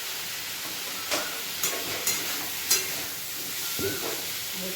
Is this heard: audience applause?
no